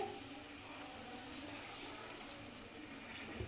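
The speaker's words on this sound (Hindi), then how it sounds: "थोड़ा सा पानी डाल के" Water poured into a pan of frying masala for an onion and capsicum curry gives a steady broadband hiss and sizzle that holds evenly throughout, with no voices.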